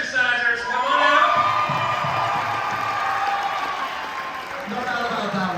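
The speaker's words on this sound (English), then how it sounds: "We're going to call you back out, and then we're going to do a final applause in here" Studio audience applauding and cheering loudly for a team of finalists called out on stage at a school show, with whoops and shouts over sustained clapping that holds steady throughout.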